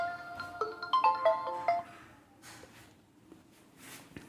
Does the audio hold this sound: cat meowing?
no